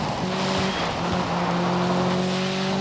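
Engine of a car in the off-road racing game DIRT 5 on PS5, a sustained tonal drone that shifts pitch slightly as revs change, steady and fairly loud with a rough, noisy edge.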